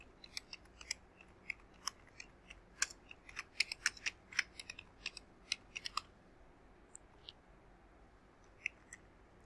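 Rapid, irregular clicks of a computer keyboard as data is typed into a Microsoft Word sales quotation, close and crisp in a quiet room, with bursts of keystrokes and short pauses, no talking.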